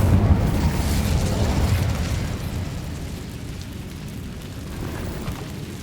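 An Incendio fire spell from the video game Hogwarts Legacy blasts as a broad, rumbling roar. It starts strongest and holds as a dense, steady crackling rush that eases slightly over several seconds, with no clear individual hits.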